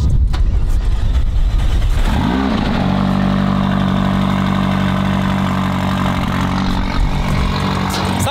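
A McLaren race car with factory exhaust cranks and fires up, its engine catching after a few seconds of starter noise, then settling into a loud, steady, rumbling idle close by with a slight blip near the end.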